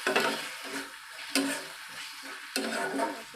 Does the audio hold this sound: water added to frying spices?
yes